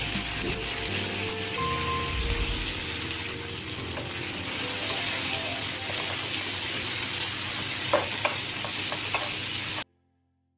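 Tomatoes fry in a pan with chili powder, turmeric and salt for a South Indian egg roast, giving a continuous close sizzle with stirring scrapes and a few sharp utensil knocks near the end.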